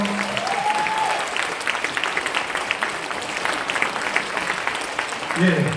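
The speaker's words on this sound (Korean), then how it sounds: "박수 주세요" Steady applause from a concert audience in a performance hall fills the whole stretch, dense and even, with a brief voice near the start and some murmuring toward the end.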